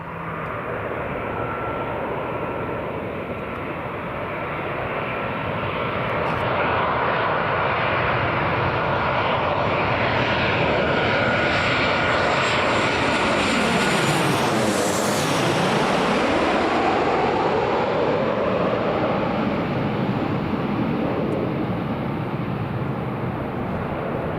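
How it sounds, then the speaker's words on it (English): Sun Express Boeing 737-800, 22 years old, arriving at Newcastle International Airport from Antalya, loud jet engine roar that swells as it passes close by, peaking midway, then a sustained rumble fading slowly. "Here she is, Sun Express 737 800 Tango Charlie Sierra Oscar Romeo, 22 years old. Just arriving on flight 582 from Antalya."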